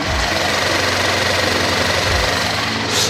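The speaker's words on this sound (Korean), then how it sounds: "그럼 제가 밖으로 나가서 엔진 소음 한번 담아보도록 하겠습니다." A gasoline car engine idles steadily with the hood open, a close, even low rumble that holds constant for a few seconds with no talking, the car an Audi RS dressed-up model.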